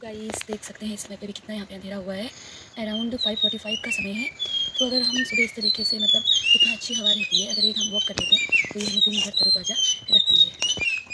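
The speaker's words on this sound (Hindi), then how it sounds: "ये देखिए चिड़िया के साउंड है, आप इसको सुन सकते हैं।" Morning birds chirp and tweet steadily in the background, bright high calls throughout, while someone talks close by over them.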